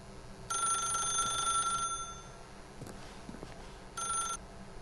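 A telephone rings in the video game The Stanley Parable: a bright electronic trill sounds for over a second, pauses, then starts again briefly, clear and close.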